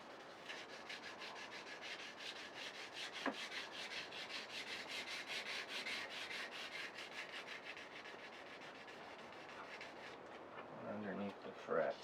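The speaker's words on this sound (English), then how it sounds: "I'm going to lightly buff this with 2400 grit sanding pad." Guitar fingerboard of phenolic Richlite lightly buffed with a 2400 grit sanding pad, a soft rhythmic back-and-forth rubbing, quiet and close, continuing steadily.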